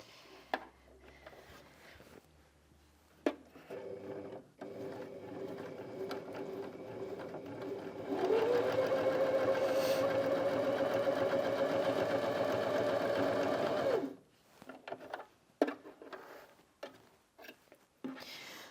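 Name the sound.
Janome Sewist 725s sewing machine sewing straight stitch through thick fabric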